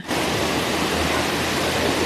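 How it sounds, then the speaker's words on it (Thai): A long waterfall pours as a steady, dense roar of falling water, close and constant throughout the short stretch with no voices. "น้ำตกยาวยาวยาวและยาวมาก"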